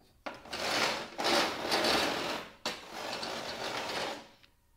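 Table saw rip fence on a Skilsaw SPT99-11 dragged along its rail with force, giving loud grinding, ratcheting scrapes in three long strokes separated by brief pauses, close up and with no talking.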